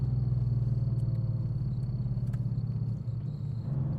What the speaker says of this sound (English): So it's an air-cooled motor, got to warm it up slowly.